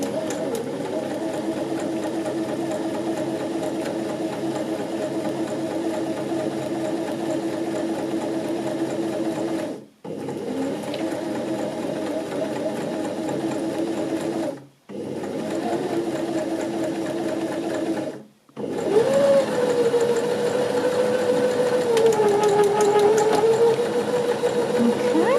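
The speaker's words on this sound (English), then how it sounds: "foot on the pedal, and this should automatically sew the buttonhole" A Janome 725s sewing machine sews a one-step buttonhole automatically with a loud, steady whirring hum that stops briefly three times, then resumes at a slightly different pitch.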